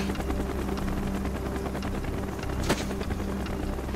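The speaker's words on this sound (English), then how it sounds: "Chopper's inbound!" Helicopter rotor thrum from Call of Duty Black Ops, a steady loud chopping drone that fills the whole stretch with a brief sharper burst near the end and no talk over it.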